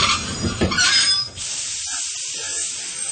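A train arrives at a station with hissing and squealing wheels at first, then a softer, steady rumble and hiss as it slows, fairly faint and brief.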